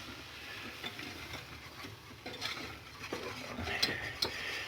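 Flour stirred into 150 g of melted butter in a pan for a béchamel, with a utensil scraping and clinking steadily and a soft sizzle underneath, close and moderately loud.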